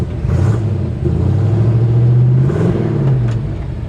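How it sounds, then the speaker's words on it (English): A 1952 Chevrolet 3100 pickup truck's exhaust accelerating close by, a loud, steady low rumble that swells and rises in pitch mid-pull before settling, with no voices over it. "It's got a nice sounding exhaust."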